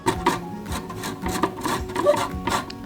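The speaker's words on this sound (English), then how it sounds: "We're going to zest on our grater." Lime rubbed over a kitchen grater for zest, quick repeated rasping strokes in an irregular rhythm, close and moderately loud with no voice.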